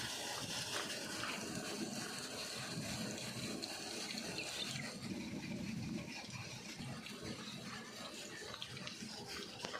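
Water gushes steadily under a low mechanical hum from an electric water pump motor pushing water into a tank, continuous and fairly loud throughout.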